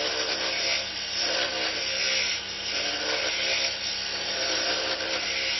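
Steady, continuous scraping and rubbing of a tool cutting wood turned between centres on a lathe, a sustained textured hiss at even loudness throughout with no talking.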